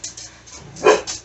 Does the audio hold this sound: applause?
no